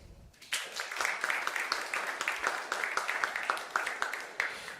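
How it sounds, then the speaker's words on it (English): A conference audience applauds continuously, a steady dense patter of many hands clapping at moderate volume, with no speech over it. "can we just put our hands together and say a big thank you and a round of applause for Zendesk, Xero, and AWS"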